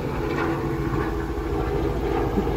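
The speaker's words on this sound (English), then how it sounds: "sorry about the helicopter" A helicopter passes overhead outdoors beside a home garden, its steady rotor drone filling the background continuously throughout, fairly loud with no voices over it.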